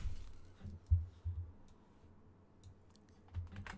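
Quiet computer keyboard typing during a tabletop game session, a few soft clicks and taps scattered over a low hum, with a small cluster of sharper key presses near the end.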